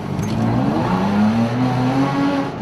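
A freshly rebuilt Toyota Tacoma truck climbs a steep off-road hill in second gear, its engine droning and rising steadily under load, close and loud with no talk.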